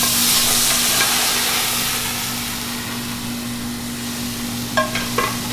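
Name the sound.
garlic ginger paste frying in oil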